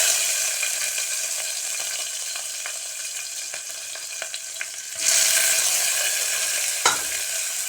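Chopped onions fry in hot oil for a mushroom biryani, giving a steady close sizzle that swells into a louder burst midway, with a brief scrape of stirring near the end and no voices.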